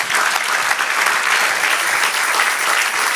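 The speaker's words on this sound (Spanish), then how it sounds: "Dale otro aplauso al Señor." A church congregation claps in a dense, sustained burst of applause that fills the room evenly, with faint crowd noise underneath.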